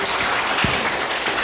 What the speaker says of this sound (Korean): 이정현 부장님 다시 한번 감사의 박수 부탁드립니다